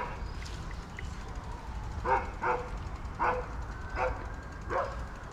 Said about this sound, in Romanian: Haita de câini vagabonzi din Valea Trandafirilor.